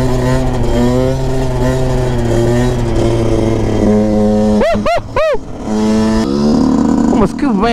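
A loud, close Yamaha YZ125 two-stroke motorcycle engine with an Athena 144 kit revving hard, its buzzing pitch rising and falling through several quick throttle blips and gear changes.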